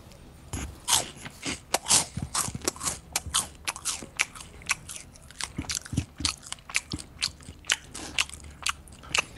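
Wet lip smacking and chewing right up against a microphone during online Call of Duty: Modern Warfare 3 voice chat, a rapid irregular run of close, loud smacks and crunchy mouth clicks.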